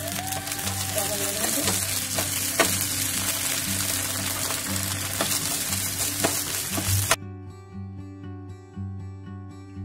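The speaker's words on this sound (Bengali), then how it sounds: "আমাদের মোটামুটি পেঁয়াজটা ভাজা হয়ে গেছে। এর মধ্যে আমি একটু আদা রসুনের পেস্ট দিয়েছি অল্প করে।" Chopped onion with ginger garlic paste sizzles in hot oil, a continuous close frying hiss with occasional stirring clicks, cut off abruptly near the end by quiet background music.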